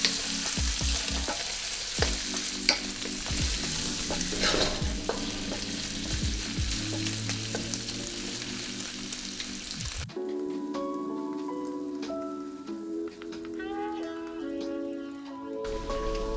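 Bacon frying in a wok gives a dense, crackling sizzle with sharp pops and occasional utensil clinks, loud and close. It cuts abruptly into a quieter, smoother hiss with tonal clatter for the last stretch, and no one speaks.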